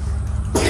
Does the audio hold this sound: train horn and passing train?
no